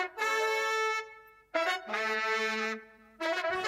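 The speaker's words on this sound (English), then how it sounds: "So the horns sound like this." A horn section isolated from a live 2008 concert in Mexico plays three sustained brassy phrases, each swelling and then cutting off, heard thin and fairly quiet with gaps of near silence between them.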